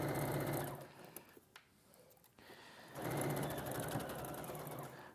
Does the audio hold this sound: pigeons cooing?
no